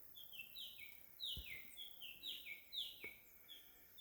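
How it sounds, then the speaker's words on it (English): Birds chirp softly in a Jamaican garden, with repeated short, sliding high calls in an irregular rhythm over quiet outdoor background, plus a couple of faint low thumps. "Listen to the birds."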